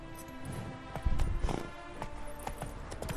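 A horse gallops in The Witcher 3 with a rhythmic clip-clop of hooves over a steady bed of game music and ambience, the hoofbeats swelling louder for a moment.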